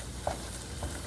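Roux for chili frying in a pan, a continuous soft sizzle with a couple of faint scraping stirs, no voices.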